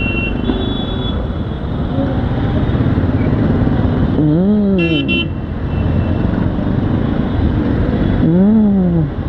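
Busy city road traffic with motorcycles and buses, a continuous close engine drone broken by two short horn toots, one midway and one near the end.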